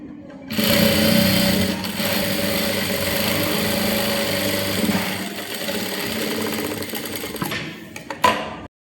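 A sewing machine stitches a shirt collar in a close, steady mechanical whir that runs for about seven seconds, then slows and stops with a final clunk.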